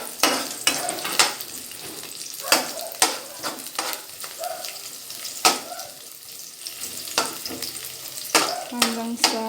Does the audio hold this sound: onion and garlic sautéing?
yes